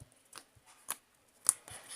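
Homemade slime being slowly stretched gives off a few sharp, quiet clicks and pops scattered through a near-silent moment.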